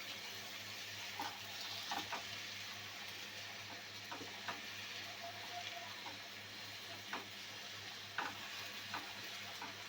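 Mango pieces and sugar for a sweet-sour mango pickle cook down in a pan, giving a steady, quiet frying hiss broken by occasional faint knocks of the stirring spoon.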